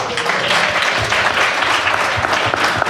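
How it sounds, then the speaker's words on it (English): An audience at a community forum breaks into a steady round of applause, dense and fairly loud throughout, with no talking on top. "Everybody give him a round of applause"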